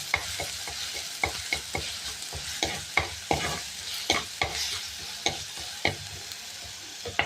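Ginger, green chili and onion sauté in a hot pan, a soft sizzle punctuated by repeated sharp scrapes and taps of a spoon stirring against the pan.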